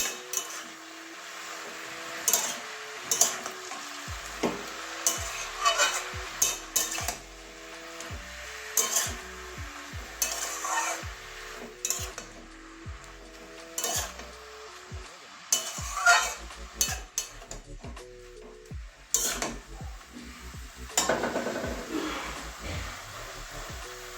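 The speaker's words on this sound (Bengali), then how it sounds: "এবারে আলু আর পালং শাকটা ভালো করে কষিয়ে নেব মশলার সঙ্গে" Potatoes and spinach being sautéed with spices in a pan, heard as repeated scraping and clattering of a spatula against the pan alongside a low sizzle, with a steady stirring rhythm and no talking.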